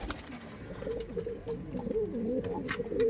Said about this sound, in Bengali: দেখছেন দেখছেন ডিম দেওয়ার পায়রা